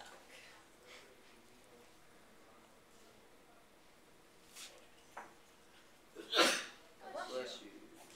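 A single sharp sneeze bursts out loud and close near the end, following a few faint sniffs and rustles in an otherwise quiet room, with a brief murmur of voices after it.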